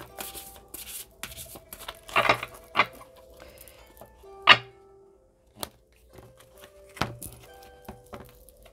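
Oracle cards are shuffled and drawn, giving soft papery flicks and riffles, several sharper taps and slaps of cards set down, and quiet gaps between them.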